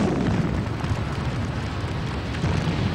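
A burning oil tank boilover erupts in a loud, continuous roar, a dense rumbling wash of fire and blast noise that holds steady throughout with no voices.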